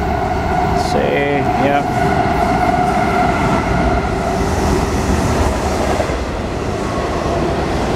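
An ES44AC diesel locomotive rolls past under dynamic brake with a loud, steady mechanical roar and a steady rail rumble, while a person speaks briefly over it.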